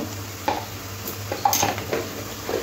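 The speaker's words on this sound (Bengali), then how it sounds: "খুব ভালো করে পেঁয়াজের সাথে মিশিয়ে নেব।" Half spoons of ground coriander and ground cumin are stirred into onions in a pan for okra do pyaza: several scraping strokes and light clinks of the spoon against the pan over a soft sizzle, with no voices.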